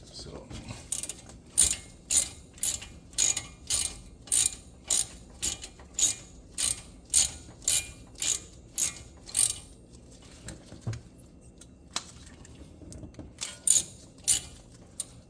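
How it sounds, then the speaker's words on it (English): A ratchet with a Torx T45 socket works a brake caliper bolt loose on a Ford Fusion, clicking in steady, regular bursts of about a dozen strokes, pausing, then resuming, close and crisp with no talk. "There's actually a Torx socket that we have to use to remove the brake caliper, and it's a T45."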